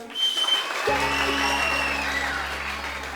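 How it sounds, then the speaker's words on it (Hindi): A studio audience on a Ramzan TV game show breaks into steady clapping that continues under a low electronic hum, with a voice audible at the start. "जिन्होंने इसके लिए तालियां बजाई"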